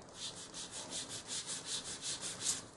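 Foam applicator rubbing ink over a clear-embossed card, a steady run of soft scuffing strokes in a regular back-and-forth rhythm, close and fairly quiet, with no voices.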